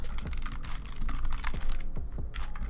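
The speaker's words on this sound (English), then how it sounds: "I'm just going to type it in here." Rapid typing on a computer keyboard, close and steady, with irregular bursts of clicking keystrokes and no voice over them.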